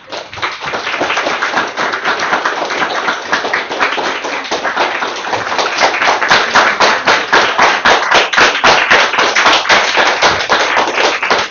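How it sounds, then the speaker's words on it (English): Loud, sustained applause from an audience in a library after a talk, dense clapping that swells and grows more rhythmic toward the end, with scattered sharp claps standing out. "You've got the loudest applause of all time here in this library"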